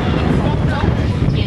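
Strong wind buffets the microphone at Yehliu Geopark, a rocky coastal park in Keelung, Taiwan, as a loud, continuous low rumble with faint voices mixed in.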